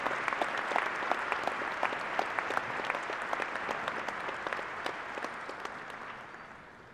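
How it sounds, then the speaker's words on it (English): Audience at a fall university commencement ceremony applauding steadily for about seven seconds, a dense wash of many hands with a few sharper individual claps standing out, slowly tapering toward the end. "Another round of applause,"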